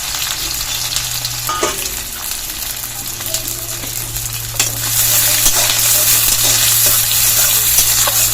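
Chopped onions and garlic frying in hot oil for an egg bora curry, a steady close sizzle with occasional stirring scrapes that swells louder midway through.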